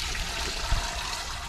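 Water runs from a garden hose outdoors on a cold day, a steady hissing splash that carries evenly throughout with a brief low thump partway through.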